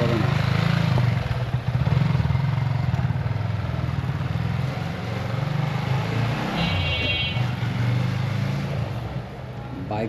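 A Yamaha R15 V3 BS6 motorcycle with a newly replaced piston, at about 60,000 km, is being ridden. Its engine gives a loud, steady, close roar with wind rush that holds evenly throughout.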